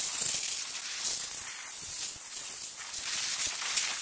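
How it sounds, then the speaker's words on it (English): A steady, loud hiss of compressed air blows dust off the rear drum brake of a 2011 VW Jetta, a continuous close blast with slight wavering and no voices. "And now just blow dry it."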